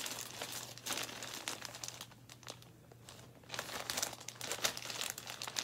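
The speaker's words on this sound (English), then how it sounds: "Sorry for the rustling." Plastic packaging around a skein of 100% acrylic Bernat yarn being handled, giving a close, continuous crinkling and crackling rustle in irregular bursts, with a short quieter pause midway.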